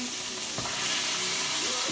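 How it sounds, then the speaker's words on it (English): Steady sizzling and crackling of chicken frying in a hot pan, continuous and close, with faint utensil stirring sounds. "Watch out for the frying of the chicken because you sure don't want to get burnt."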